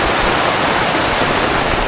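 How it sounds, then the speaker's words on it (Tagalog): Heavy rain driven by wind pours in a dense, unbroken roar, loud and close, with no voices over it. "Yung lakas ng ulan at saka hangin."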